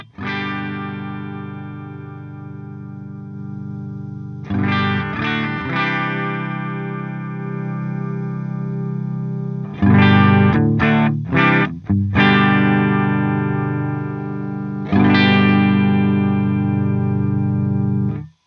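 An electric guitar played through a Two Notes Torpedo C.A.B M+ cabinet simulator with a virtual 57 microphone, sustained distorted chords with a few quick choppy stabs, loud and close with no talking.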